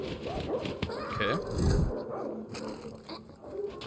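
Dogs in the video game Far Cry 6 bark and whimper in short bursts, fairly faint and mixed with game sounds and a talking voice.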